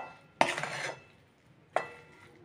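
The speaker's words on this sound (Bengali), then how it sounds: "যতক্ষণ না ভালো করে মিশছে ওটাকে নাড়তে থাকবো।" A semolina, coconut and sugar mixture stirred in a pan for sweet barfi, two sharp scraping clinks of a spoon against the pan, close and fairly quiet, with no voices.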